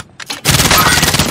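Rapid automatic gunfire rattles in Call of Duty Modern Warfare Warzone solo play, a couple of short bursts, then a loud, dense, sustained volley of close shots.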